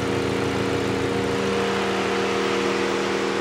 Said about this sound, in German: Aber egal, Motor läuft.